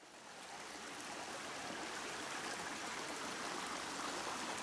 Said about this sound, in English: it's actually more of a brook than a river